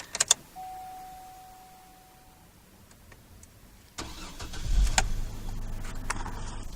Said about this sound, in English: I'm going to go ahead and start the vehicle now.